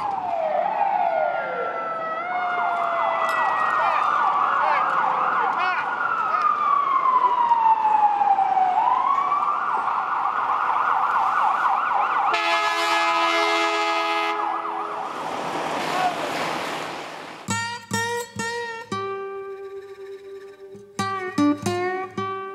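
Emergency sirens of ambulances and police cars wail and sweep up and down, loud and close, then give way to sharp blaring horn-like blasts amid New York City traffic.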